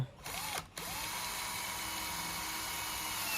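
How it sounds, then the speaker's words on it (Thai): A Molita 128V cordless drill bores into thick wood. The motor whines up to speed, cuts out for a moment, then holds a loud, steady, close grinding whir to the end, with no talking. "ส่วนต่อไปจะเป็นลองเจาะไม้ หน้าสามดูนะครับ"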